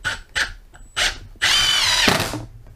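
A Milwaukee M18 FID2 Gen3 Fuel impact driver drives 50mm screws: a few short whirring bursts, then a longer loud run that breaks into rapid impact hammering before stopping, close and with no talk.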